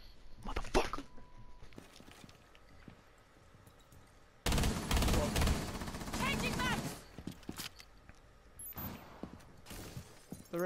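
Gunfire in Rainbow Six Siege, scattered sharp shots early, then a loud sustained burst of rapid shots and impacts midway, fading back to sporadic sounds while a player talks.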